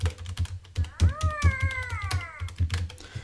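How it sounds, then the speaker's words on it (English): Keys of an Elektron Analog Four synthesizer clack in quick, light taps, while a cat meows loudly in the middle and a voice is faintly present. "you'll hear the clacking of the keys if I turn down that"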